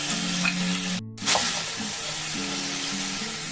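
Ground spice paste and turmeric hit hot oil in a pan with a loud continuous sizzle and stirring, briefly cut off by a gap before the frying hiss resumes steadily, close up and without talk.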